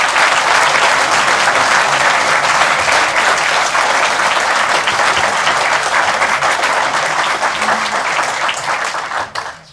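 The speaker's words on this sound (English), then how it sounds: "But first of all, a round of applause." A presentation audience gives a long round of applause, loud and dense clapping that carries steadily for nearly ten seconds before tapering off abruptly at the end.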